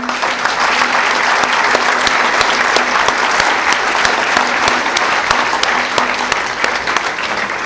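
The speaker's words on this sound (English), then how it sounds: "give him a big round of applause" A large audience at a spiritual talk claps loudly and continuously, a dense, even wash of hand claps with individual sharp claps standing out, lasting several seconds.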